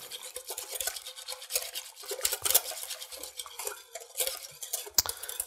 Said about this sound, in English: So let's give this a whisk, get it going.